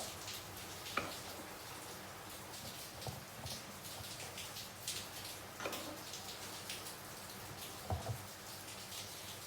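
Steady rain falling outdoors, a constant soft hiss with scattered drips and taps landing near and far, no voices over it.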